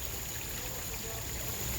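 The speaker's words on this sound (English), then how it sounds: "I can't hear you over the water." Water runs continuously nearby in a steady, hissing broadband rush with no pauses, loud enough to drown out other sound.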